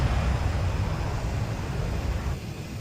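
An AJS-37 Viggen jet in the DCS flight simulator, flying after battle damage with an electrical failure, gives a steady broadband engine roar with deep low rumble that holds constant and eases slightly near the end, no voices.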